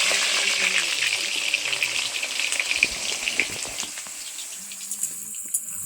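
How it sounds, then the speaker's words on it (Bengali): Potatoes go one by one into hot oil for a mutton curry, setting off a loud, steady sizzle with dense crackling and spitting that holds through the whole stretch, close up and with no voices. "এবার আমি একে একে আলুগুলোকে অ্যাড করব এই তেলের মধ্যে।"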